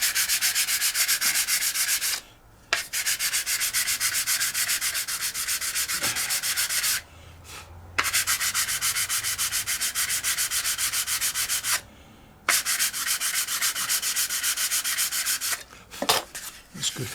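Rapid, rhythmic scraping of a sanding bar rubbed back and forth over a plastic edge of an FW190 model kit, in bursts separated by a few short pauses.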